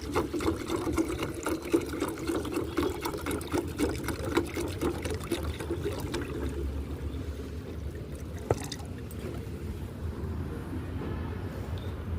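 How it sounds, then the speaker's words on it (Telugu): Water pours steadily into a half-filled bottle while mixing mustard cake liquid fertilizer, a continuous gurgling trickle that fades toward a quieter tail with a single sharp knock. "చూడండి హాఫ్ వాటర్ తోటి నింపాను ఈ బాటిల్ని."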